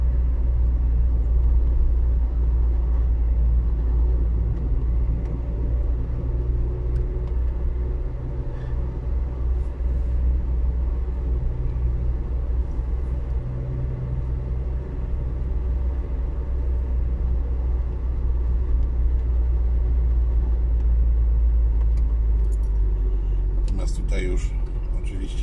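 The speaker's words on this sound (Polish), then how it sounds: "Poruszają się ciężarówki, pewnie jest dużo ciężarówek" Heavy trucks on a road leading to a rail terminal in Sławków, a continuous loud low rumble of passing traffic with someone talking over it.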